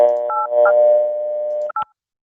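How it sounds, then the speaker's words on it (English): DTMF tones dial a number on a telephone line over a step-by-step dial tone: a short series of touch-tone beeps, clear and close, ending in a quick final tone, with no voices. "So let's dial 8311."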